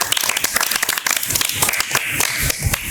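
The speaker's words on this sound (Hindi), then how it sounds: "अगर आपको महानूर का कलाम अच्छा लगा हो तो तालियां।" An audience claps and applauds at a live stage poetry show, a dense, loud, steady burst of many hands clapping close by, with no talking.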